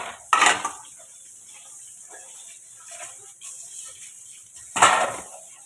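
Old metal kadai woks clank while being handled in a home kitchen: two sharp, close metallic clatters about four seconds apart, with soft quieter handling noises between them.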